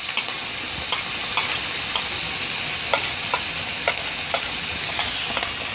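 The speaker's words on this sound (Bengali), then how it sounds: "এখন আমি এর মধ্যে দিয়ে দিচ্ছি পেঁয়াজ কুচি" Chopped onions fry in leftover fish-frying oil with a steady, dense sizzle, while soft rhythmic stirring strokes scrape through at regular intervals.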